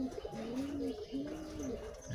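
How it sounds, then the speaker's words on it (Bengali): Shahjahanpuri giribaz pigeons, a breeding pair kept at home, coo in low rolling calls, two or three drawn-out rising and falling phrases heard fairly close over faint room noise. "এটা ছেলে পায়রা, এটা মেয়ে পায়রা"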